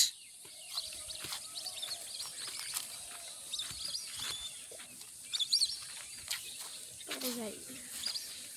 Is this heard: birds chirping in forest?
yes